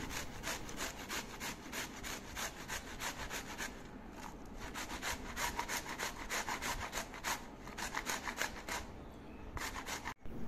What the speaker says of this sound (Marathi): आणि किसणीवर साल न काढता जेवढे जमेल तेवढे किसून घेतले.